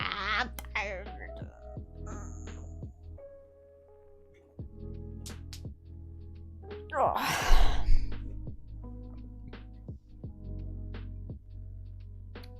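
Felix the cat lets out one breathy yawn partway through, a short airy burst over soft tonal background sounds and occasional ticks.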